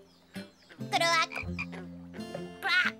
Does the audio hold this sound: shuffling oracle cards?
no